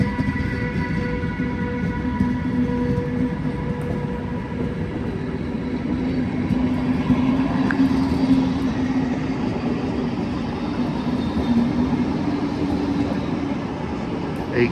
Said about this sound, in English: this is the passenger train heading from Oslo Central Station to Bergen